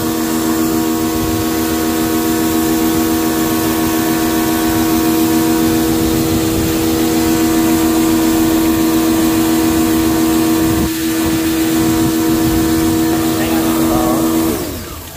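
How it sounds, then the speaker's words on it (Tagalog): A Mitsubishi L300 Euro 4 turbo diesel engine idles loudly and steadily with a droning hum while water sprays over the turbo during cleaning, the sound continuous for the whole stretch and dipping briefly near the end. "Buksan mo yung tubig"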